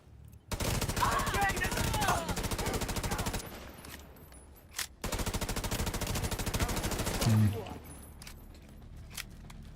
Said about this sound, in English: It's a fucking Tommy gun